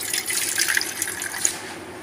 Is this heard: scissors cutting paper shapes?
no